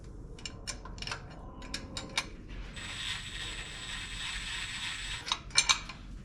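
Ratchet clicking as bolts fasten a bracket onto the water pump of a Gen VI 454 engine during a serpentine conversion kit install, with quick bursts of pawl clicks, a steadier mechanical whir in the middle, then a few more sharp clicks.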